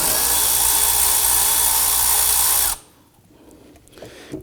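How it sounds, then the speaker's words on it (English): A power driver fitted with a 7mm socket whirs loudly and steadily while loosening the lower intake tube on a 2015-2020 Ford F-150 2.7L V6, then cuts off abruptly, leaving quiet shop sounds. "Using our 7mm socket and driver here, we're going to loosen the lower intake tube."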